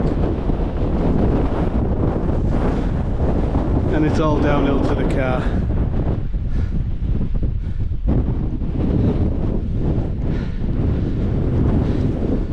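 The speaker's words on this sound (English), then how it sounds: "It's been very windy all day, and very windy on the top" Strong wind buffets the microphone on a murky, rain-swept fell summit in the Northern Fells of the Lake District. The roar is loud and constant throughout, with a person talking over it.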